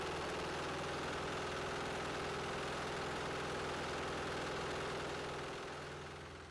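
A small diesel engine running on a 50-50 vegetable oil fuel mix runs steadily with a knocking, vibrating rumble, close and continuous, fading slightly at the end.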